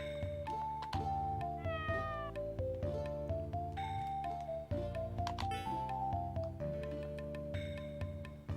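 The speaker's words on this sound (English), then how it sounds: "Oh, is it a kitty cat?" Meows from a cat in the Sega Saturn game Albert Odyssey: Legend of Eldean, several short mewing calls layered over a steady, busy game music track that plays throughout.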